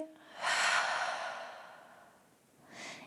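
A long, breathy exhale during a guided yoga breathing sequence, a soft sustained rush of air that slowly fades, followed by the start of another faint breath near the end.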